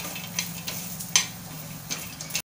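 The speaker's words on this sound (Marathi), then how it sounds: "इथे आपण पाव वाटी ओलं खोबऱ्याचे तुकडे घेतलेले आहे ते टाकूया। छान असं भाजून घेऊया।" Fresh coconut pieces roast in a pan for a Kokan-style Malvani chicken, a quiet sizzle broken by intermittent stirring scrapes and one sharper clink.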